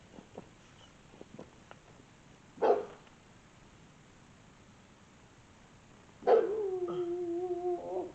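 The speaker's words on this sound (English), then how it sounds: "That's the neighbor's dog." A neighbor's dog barks outdoors at a distance, one short bark followed after a pause by a longer drawn-out bark and howl, faint against quiet ambient background.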